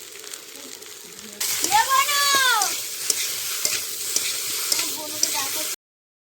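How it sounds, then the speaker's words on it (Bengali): Dal with salt and turmeric sizzles in a pan as a metal spatula stirs and taps against it, close up. Early on, a cat's drawn-out meow rises over the frying. "নুন হলুদ দিয়ে খুব ভালো করে ভেজে নিলাম, নিয়ে এই যে এইভাবে খুন্তি দিয়ে একটু ঘেঁটে নিলাম"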